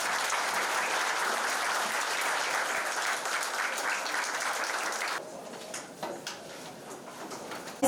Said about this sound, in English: Students, please welcome our speaker with a huge round of applause.